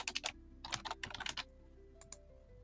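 Typing on a computer keyboard while filling out a form: quick bursts of close, crisp key clicks with pauses between them, a few last taps, and a faint background hum.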